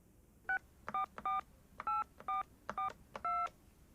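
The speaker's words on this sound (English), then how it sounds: "She called Dirk's cell phone and his home, but no one answered either number." Telephone keypad dialing tones from a phone in a gym office, a quick series of about eight short dual-tone beeps in an irregular rhythm, clear and alone over faint background hiss.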